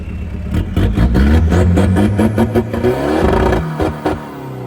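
A used car's 2.5-litre engine runs loud and close, revving up and down in a rough, throbbing surge before easing back toward idle.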